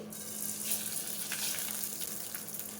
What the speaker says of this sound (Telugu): ఎండుమిర్చి, ధనియాలు, జీలకర్ర దూరగా ఫ్రై చేద్దాము.